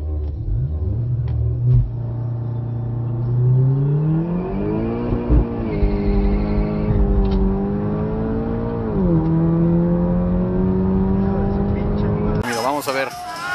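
Porsche and Audi drag racing cars accelerate at a drag strip, a strong engine drone rising through the gears with steady loud revving, while a commentator talks over it throughout.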